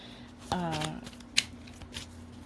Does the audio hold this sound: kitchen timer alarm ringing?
no